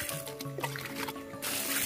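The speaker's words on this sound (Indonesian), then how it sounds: "Ini kan semuanya satu ember 20 liter ini kita siramkan semuanya ke bawah yang sini ya." Water from a 20-liter bucket pours onto the base of a longan plant, a steady wet splashing and trickling that grows fuller toward the end, close by with no speech over it.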